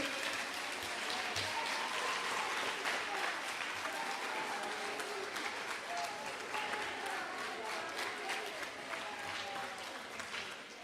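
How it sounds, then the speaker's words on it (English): Middle school awards ceremony crowd gives a big, sustained round of applause for the championship track team, dense clapping rolling on evenly throughout, fairly distant and soft in the room. "we can give you a big round of applause for your championships and your accomplishments"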